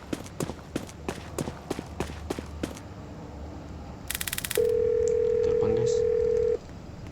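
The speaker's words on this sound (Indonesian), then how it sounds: "Ada telepon dari luar." Telephone ringing inside a Roblox game set aboard an airplane, a steady electronic ring tone lasting about two seconds after a run of rapid clicks and taps.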